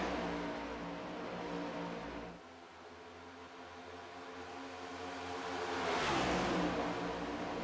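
Race car engines in the iRacing sim, a Cup series field coming out of turn two onto the back straightaway, drone as a steady dense roar that dips briefly and then swells louder as cars pass close by.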